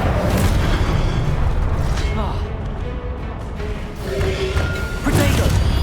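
An Incendio fire spell blasts in Hogwarts Legacy, a loud booming burst with crackling and rumbling impacts, with a voice shouting over the noise.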